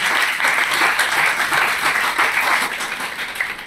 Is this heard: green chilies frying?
no